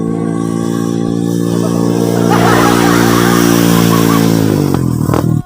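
A motorcycle engine drones loud and steady close by while riding, its pitch easing down slightly toward the end before a brief rough burst and cutoff.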